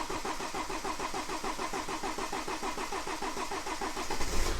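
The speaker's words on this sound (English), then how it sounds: "this is going to take some cranking because we've had the rail off, so we're going to have to wang this over" A BMW 318d with the N47 diesel engine cranks over steadily in a fast rhythmic churn after its fuel rail was removed, the starter noise continuing evenly and growing slightly louder at the end.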